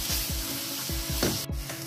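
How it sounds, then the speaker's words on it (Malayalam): Two medium chopped onions with salt sautéing in hot oil for chicken biryani, a constant close sizzle broken by a regular rhythm of spatula strokes scraping the pan, no voices. "ഇതിനകത്തേക്ക് ഞാൻ 2 മീഡിയം സൈസിലുള്ള സവോള അരിഞ്ഞത് ഇട്ട് കൊടുക്കുകയാണ്. ഇതിനകത്തേക്ക് ആവശ്യത്തിന് ഉപ്പ് ഇട്ട് കൊടുക്കാം. ഇനി നമുക്ക് നന്നായിട്ടൊന്ന് വഴറ്റി കൊടുക്കാം."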